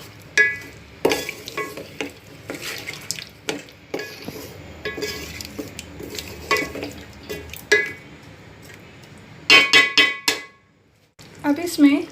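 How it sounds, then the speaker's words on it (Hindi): A spoon stirs potato pulao with green chillies and yogurt in a pan, repeated scraping and clinking strokes over a faint sizzle, with someone speaking in between. "अच्छे से मिक्स करें।"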